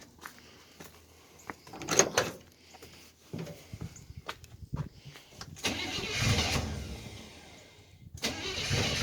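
Chevrolet Blazer cold start with a sticking choke: several sharp clunks and short bursts of cranking, then the engine catches and runs roughly at a fairly close distance, swelling and fading before a final rev near the end.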